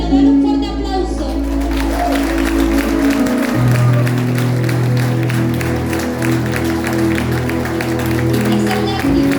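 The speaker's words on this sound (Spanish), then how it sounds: "Dios es bueno, dale un fuerte aplauso." A church congregation breaks into sustained applause, a dense, steady clatter of many hands lasting the whole stretch, with murmuring voices and someone speaking mixed in beneath a low hum.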